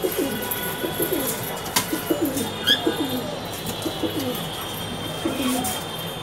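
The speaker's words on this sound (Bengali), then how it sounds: "খুবই সুন্দর সুন্দর কবুতর" Fancy pigeons coo in a loft at a large pigeon market in Dhaka, a steady run of low, soft coos repeating close by over a busy background hum.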